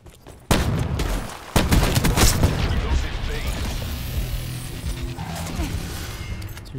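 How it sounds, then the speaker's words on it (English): Gunfire in Call of Duty: Black Ops 4 during a Domination match on the Morocco map, with sharp loud shots bursting in, then a sustained rattle of fire and fading echoes, close and dominant. "some shots."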